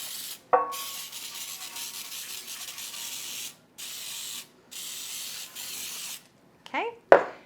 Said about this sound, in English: now I have a small loaf pan that I'm gonna spray with some Baker's Joy